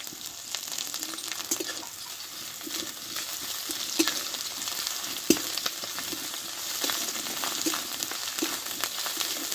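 Crushed ginger, garlic and chilli frying in a pan, a steady close sizzle with scattered stirring clicks and spatula scrapes, continuous at moderate volume with no one speaking.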